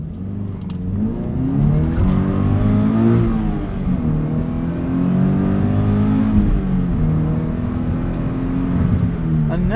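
A car spins donuts, its engine revving up and down in repeated loud surges with tyre noise, close and continuous for about ten seconds.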